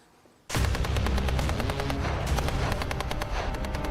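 Sustained gunfire on the outskirts of Bakhmut during the Russia–Ukraine war, a dense clattering barrage that bursts in loudly after a quiet half-second and keeps up without pause, with rapid shots overlapping and echoing.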